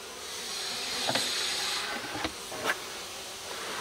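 Honey bees drift around an open hive outdoors, a faint wash of buzzing and hiss with a few brief louder passes as individual bees fly close by.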